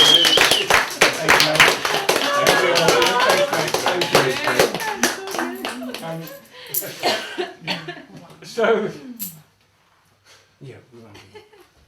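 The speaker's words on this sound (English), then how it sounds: "Give a big round of applause." Applause from a magic show audience, dense clapping that swells and then thins out into a few scattered claps before fading to near silence.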